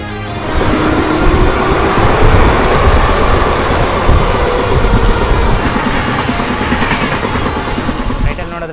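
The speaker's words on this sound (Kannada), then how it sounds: "ಇವತ್ತು ನಾವು ರೇಣುಗುಂಟದಿಂದ KSR ಬೆಂಗಳೂರವರೆಗೂ ಒಂದು ಸೀಕ್ರೆಟ್ ಟ್ರೈನಲ್ಲಿ ಹೋಗ್ತಾ ಇದ್ದೀವಿ" A passenger train running from Renigunta to KSR Bengaluru, a loud rumbling roll with rhythmic clickety-clack of wheels over rail joints, heard close from on board, steady throughout.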